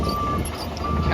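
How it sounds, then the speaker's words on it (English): A travel alarm on a used XCMG 210 excavator beeps in a steady tone over loud engine rumble, with a person speaking alongside. "As you hear, the travel alarm is working."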